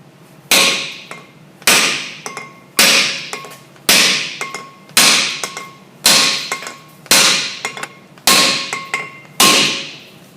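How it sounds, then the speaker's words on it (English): Nine sharp metallic mini sledgehammer strikes on a 2006 Volkswagen Jetta TDI front brake rotor hub ring out at a steady pace, each blow followed by a brief ringing decay, loud and close. "you can take another hammer, a mini sledge, and tap in different places around here"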